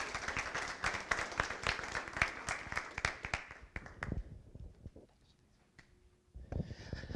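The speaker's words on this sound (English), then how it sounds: "Let's give Chair Richard a huge round of applause and the whole Cherokee Democrat team." Applause from the audience at a Cherokee Democrats community meeting, dense clapping for about four seconds that thins out into near silence, with a little stirring near the end.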